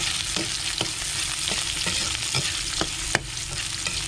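Ginger, garlic and onion sauté in a pan before wild dove meat goes in: a constant close sizzle with a spatula scraping in steady strokes about twice a second, and one sharper clack near the end.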